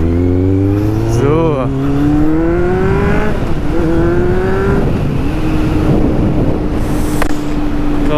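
A motorcycle engine drones steadily on a country road, its pitch shifting through gear changes, with heavy wind rushing over the microphone.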